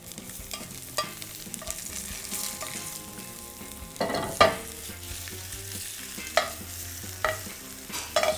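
Roast tofu and vegetables tossed in a very hot pan keep up a steady sizzle, broken by several scraping, clattering stirs and thumps of food landing, close and without talking.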